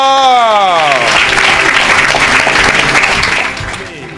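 A church congregation breaks into loud, sustained applause and clapping as a voice finishes calling out, the clapping dense and close before easing slightly near the end.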